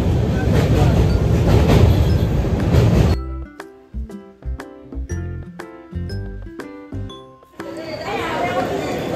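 A train runs on rails across the Ganges bridge, its loud broadband rumble and rattle filling the start and end, with a quieter stretch of tonal, music-like sounds in the middle.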